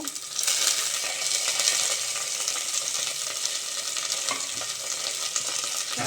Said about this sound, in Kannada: ಜಜ್ಜಿಟ್ಟಿರೋ ಬೆಳ್ಳುಳ್ಳಿ ಈರುಳ್ಳಿ ಸಾಸಿವೆ ಉದ್ದಿನಕಾಯಿ ಮಿಕ್ಸ್ ಒಗ್ಗರಣೆ ಹಾಕ್ಕೊಂಡ್ಬಿಡ್ಬೇಕು